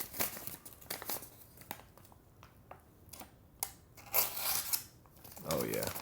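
A sharpened Kore knife slices through paper, giving repeated crisp rasping cuts and crinkling rustles, some loud and some faint, with brief talk in between.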